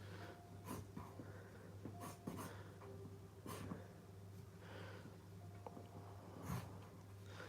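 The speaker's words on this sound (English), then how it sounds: "See, I'm writing the title." A black pencil drawing and writing on paper, faint scratchy strokes and taps in irregular bursts over a low steady hum, close and quiet.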